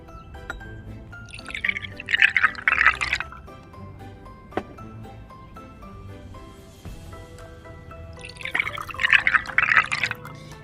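Blue and yellow colored liquid being poured for a color-mixing lesson, two separate splashing pours a few seconds apart, close and fairly loud, with quiet drips between.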